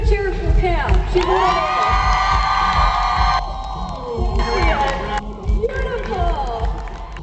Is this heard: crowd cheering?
yes